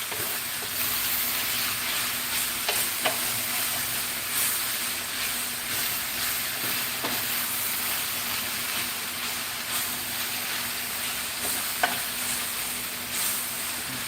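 Cabbage sautéing and being stirred in a pan, a steady close sizzle with occasional scrape and clink of the utensil against the pan, no voices.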